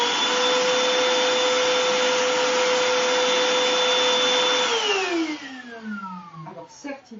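A Black+Decker PV1820L 18 V cordless handheld vacuum cleaner runs loud and steady with a high motor whine, then is switched off and winds down with a falling pitch over the last couple of seconds.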